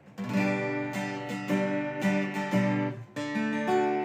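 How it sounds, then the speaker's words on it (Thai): Unamplified Martin Lee LS41JF 41-inch acoustic-electric guitar with newly fitted strings, slightly out of tune, strummed in a few bright chords, ringing close and clear with short pauses between strums. "อันนี้คือเสียงกีตาร์เปล่าๆที่เราจะฟังกันนะครับ"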